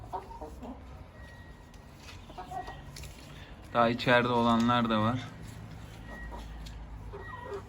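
Chickens let out onto a terrace in Antalya at sunset, one burst of loud, close clucking and squawking in the middle, with a voice talking over the quieter farmyard background.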